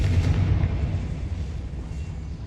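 A Confringo blasting spell detonates in Hogwarts Legacy, giving a loud, low rumbling explosion that rolls on and slowly decays over a couple of seconds.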